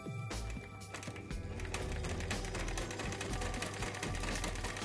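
A Singer 319 sewing machine stitches a zigzag with a wide needle swing, its steady, dense mechanical clatter running loud and unbroken throughout.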